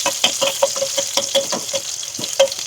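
Garlic sizzling in hot oil in a pan while Tirunelveli puli aanam is cooked, with a steady bright frying hiss broken by regular clinks of a spoon stirring, close and moderately loud.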